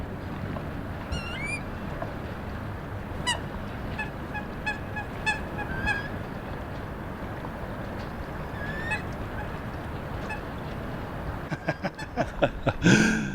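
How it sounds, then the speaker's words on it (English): Ducks quack in a series of short calls outdoors, moderately distant, growing louder and more clustered toward the end. "we can hear the little ducks outside"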